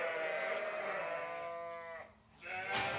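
Several sheep bleat at feeding time as hay is loaded into the racks, a sustained, quavering bleat up close followed by a brief lull and then another bleat cutting in, with no talk.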